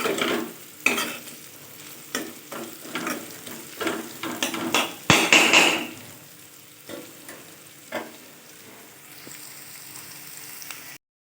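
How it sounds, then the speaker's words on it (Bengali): Sliced bitter gourd and potato fry in a pan, a close sizzle under repeated scraping stirs of a spatula, with a louder burst of crackling midway before settling to a quieter hiss. "উচ্ছে আলু ভাজা চলছে।"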